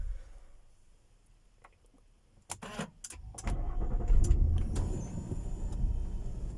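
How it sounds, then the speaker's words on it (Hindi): A push-started tractor coming to life: scattered clanks and knocks, then the diesel engine catches and settles into a low, rumbling run at close range. "गाड़ी स्टार्ट हो गई। ये ट्रैक्टर तेरा पुश स्टार्ट है।"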